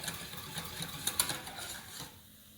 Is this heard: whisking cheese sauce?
yes